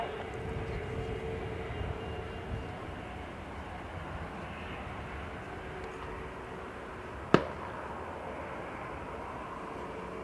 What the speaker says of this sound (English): Clear for takeoff, runway 10 right